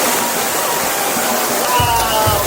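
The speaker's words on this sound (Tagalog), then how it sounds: "Mga ilog na sobrang linaw at malamig sa pakiramdam." A clear, cold river flows through the countryside of Tanay, Rizal, a steady rushing wash of water like a small waterfall or stream, loud and close, with a faint voice briefly over it.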